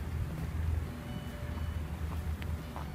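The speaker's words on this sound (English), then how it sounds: "Drifting, it's really windy." Wind blows through a snowy garden, a steady rough rumbling buffet on the microphone with faint higher gusts, and no talking.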